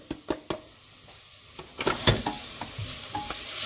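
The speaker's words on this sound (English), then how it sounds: "And then it's time to add the mirepoix, the celery and carrot." Diced celery and carrot hitting a hot pan, a soft sizzle with scattered clicks and scrapes of stirring that grow busier partway through, close and fairly quiet with no voices.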